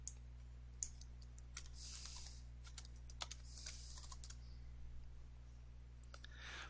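An equation is typed on a computer keyboard, a short run of quiet, close key clicks in small irregular bursts over a low steady hum.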